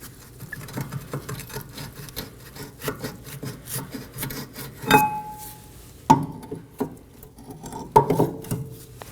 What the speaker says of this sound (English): Now remove the caliper and bracket and set it on top of the knuckle.